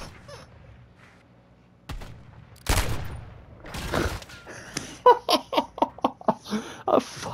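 Pistol gunfire in a first-person shooter with the Beholder kit: scattered thumps early on, then a rapid string of sharp, punchy shots toward the end, fairly loud and close.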